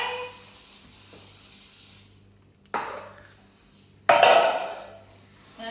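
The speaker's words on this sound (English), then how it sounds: "So we're going to spray and line the tin." Cake release spray hisses from an aerosol can into a baking tin in two short, fairly close bursts of spraying, with faint room noise in between.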